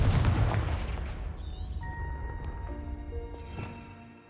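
A Confringo blasting spell explodes in Hogwarts Legacy: one loud, close boom at the start that rolls off into a decaying rumble, with sparkling magical tones and a brief chime ringing over the fading tail.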